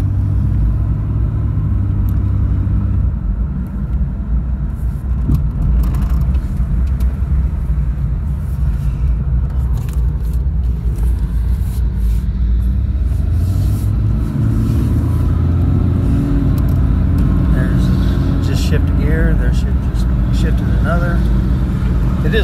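A 1999 Ford Explorer with an automatic gearbox and four-wheel drive, whose reverse gear does not work, drives forward on a test drive. Its engine rumbles steadily, and someone talks over the drone throughout.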